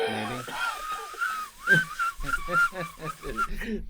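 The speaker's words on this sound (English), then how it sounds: "Why you gotta whistle?" A person whistles a short wavering tune, up close, with brief pauses and breathy gaps between the notes.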